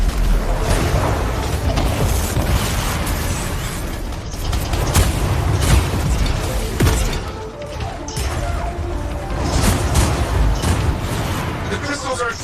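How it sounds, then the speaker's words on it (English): Crystals burst in the video game Anthem in a run of booming, crashing blasts that repeat across the stretch, loud and busy, with game noise and a voice mixed among them. "The crystals are exploding!"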